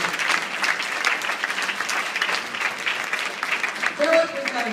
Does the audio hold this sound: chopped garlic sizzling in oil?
no